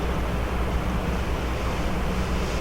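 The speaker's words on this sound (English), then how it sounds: "It's getting pretty windy. It's getting very windy." Strong wind gusting steadily outdoors, a dense continuous roar with heavy rumble and microphone buffeting throughout, no voices present.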